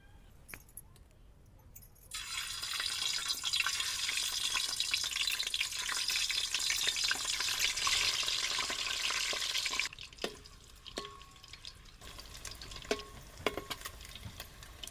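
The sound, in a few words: eggs frying in oil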